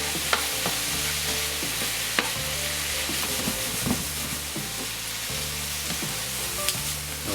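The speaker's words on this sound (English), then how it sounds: "Straight away the sugar's sticking to the meat and cooking" Lamb meat frying with sugar in a pan crackles in a constant close sizzle, broken by repeated scraping and stirring strokes and a few sharp clicks.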